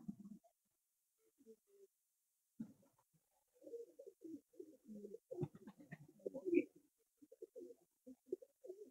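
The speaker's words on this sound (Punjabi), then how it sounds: "ਅੱਛਾ ਕਬੂਤਰ ਜਿਹੜਾ ਬਰੀਡਰ ਕਬੂਤਰ ਹੈ ਉੱਡਣ ਵਾਲਾ ਕਬੂਤਰ ਹੈ" Breeder pigeons, a flying breed, coo in low soft bursts that come and go, scattered at first and then almost continuous, close by with no voices.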